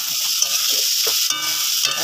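A steady hiss of mixed vegetables frying in a pan, with faint scraping of stirring underneath, continuous and close.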